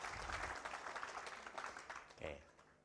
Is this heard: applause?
yes